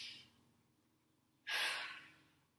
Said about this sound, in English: everyone take a deep breath in with me.